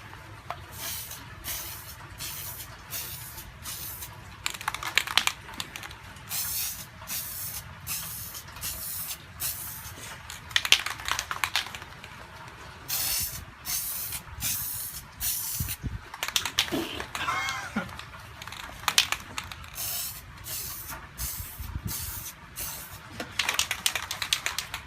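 Spray paint can laying an even coat on an old thermos outdoors, repeated short hissing bursts in quick succession with brief gaps, close and steady throughout.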